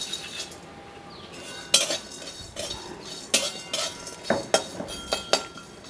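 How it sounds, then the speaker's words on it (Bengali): Whole spices, including dried chillies, cloves and black cardamom, are stirred dry in a hot wok, giving quiet, irregular metallic clinks and scrapes of a utensil against the pan. "কড়াইটা গরম হয়ে গেছে, এবার আমি মশলাগুলো সব দিয়ে দেব।"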